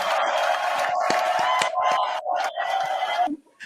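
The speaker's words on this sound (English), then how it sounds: "Give yourselves a big round of applause before we go." Crowd at a Black History Month event in Brampton cheering and whooping, a loud, close burst of excited voices that fades at the end.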